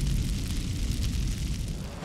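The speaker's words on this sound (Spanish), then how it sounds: "La granada revienta y el polvo se va asentando." Aftermath of a grenade explosion: a dense, low rumbling roar with rolling debris-like noise, loud and continuous for a couple of seconds with no voices.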